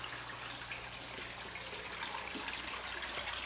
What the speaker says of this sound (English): Right now it's draining, but it's getting a little faster.